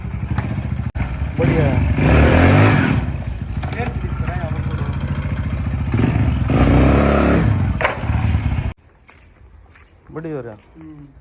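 An old-model Honda Splendor motorcycle after home modification revs hard, its loud engine surging and falling over several seconds while someone talks over it, then cuts off into near quiet as he speaks briefly.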